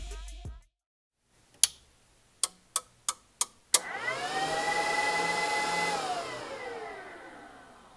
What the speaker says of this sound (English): So let's fire up the Dyno and check this bad boy out.